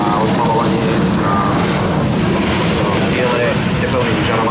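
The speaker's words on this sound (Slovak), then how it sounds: "práve pomaličky fungujúci alebo vybiehajúci Airbus 319" A slowly taxiing Airbus A319 at Sliač air base gives a loud, steady broadband roar of jet engines throughout, with constant rumble and hiss, and speech running over it.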